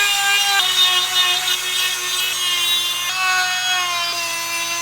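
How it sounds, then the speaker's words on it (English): Dremel rotary tool grinding coating out of the bolt holes on a Mustang turbo manifold, a steady high-pitched whine that dips slightly in pitch under load, close and without talk. "we're gonna hit it with a Dremel just real quick, kind of get some of that coating off from inside of those holes"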